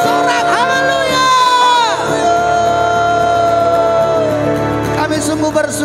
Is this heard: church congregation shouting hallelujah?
yes